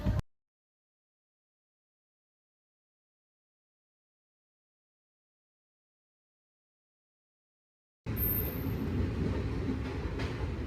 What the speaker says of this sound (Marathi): ट्रेन निघाली आहे बरोबर बारा वाजून चाळीस मिनिटांनी ठाणे रेल्वे स्टेशनवर